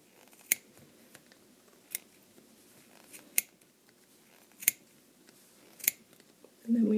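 Scissors snip through a bundle of yarn wrapped for a multicolored pom pom, five sharp, separate cuts spaced about a second apart, close and crisp against a quiet room.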